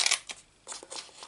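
Scissors snip through scraps of paper card, giving a few short, crisp cuts close by with brief pauses between them.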